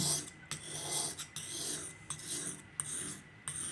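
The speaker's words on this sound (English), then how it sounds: "Now this is the fine side of my sharpening stone." A knife blade rasps across the fine side of a sharpening stone in repeated back-and-forth strokes, a steady gritty scraping close by with brief pauses between passes.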